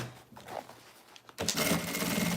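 A sewing machine runs a single continuous seam on a small flower-shaped cosmetic pouch, starting after a brief quiet pause and then whirring steadily and fairly loud.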